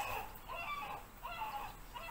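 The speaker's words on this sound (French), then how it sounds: "maintenant on a les mouettes" Seagulls crying at a distance, a few faint drawn-out calls over a soft background hiss, with no talking.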